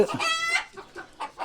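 Native hens in a coop on a home farm: one loud, drawn-out squawking call, then a few short, close clucks at a steady pace.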